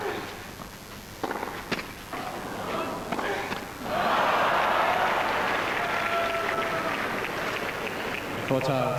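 A tennis crowd in Hamburg applauds during a 2002 quarterfinal between Hewitt and Safin, with broad clapping swelling loudly midway and holding steady, while a commentator speaks over it.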